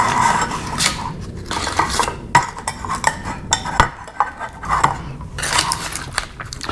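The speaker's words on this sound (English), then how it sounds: "we want to get some butter, and we want to butter up our tins" Metal baking tins being buttered by hand, with repeated close scraping, rubbing and clinking of metal as the butter is spread around the tins in uneven bursts, with no talk.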